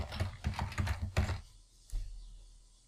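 Computer keyboard typing in a short burst of rapid key clicks for about a second and a half, then a pause and a single firmer keystroke, close and clear in a quiet room.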